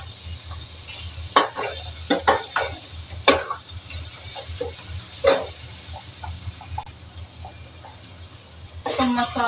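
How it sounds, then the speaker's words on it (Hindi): Spices roast in a pan while a spoon stirs and scrapes against metal in repeated sharp strokes over a soft sizzle, with a low hum underneath and a voice speaking briefly at moments. "मसालों को पकने देंगे मतलब भूनने देंगे"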